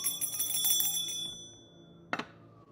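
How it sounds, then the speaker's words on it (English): A bell struck to clear energy, ringing out brightly and decaying over about a second and a half, followed by a single sharp strike near the end. "Hold on, let me hit this. I got the bell"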